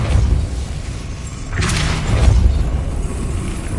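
In the video game Hogwarts Legacy, the Depulso force-push spell is cast with a deep whooshing boom and thud over a rumbling game background.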